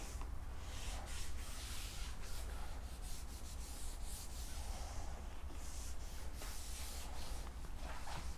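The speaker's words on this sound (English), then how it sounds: "So we're gonna take some, just rub it in." Trim protectant is rubbed onto the trim of a BMW F80 M3 with an applicator, a continuous soft, close scrubbing texture with faint repeated strokes and no talking.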